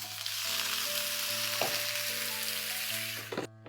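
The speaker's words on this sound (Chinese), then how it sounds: "锅里喷点油，饼的表面也喷点油，表面烙到定型，加一点点清水，" Pickled veggie beef patties pan-frying in oil with a splash of water added, a loud, continuous close-up sizzle that holds steady with a faint hum underneath, then cuts off abruptly near the end.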